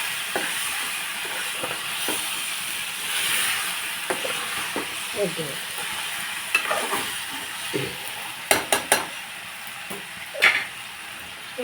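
Colocasia (taro root) curry being stirred and mixed in a pan, with soft scraping strokes and faint sizzling throughout, a few sharper clinks of the spoon against the pan near the end.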